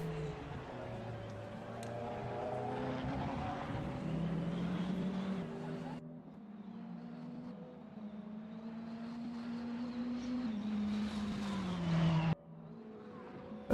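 Ferrari 488 GT3 Evo race car engine in the RaceRoom sim, a steady revving drone with shifting pitch and rising and falling tones, sustained and fairly loud throughout with a brief cut near the end.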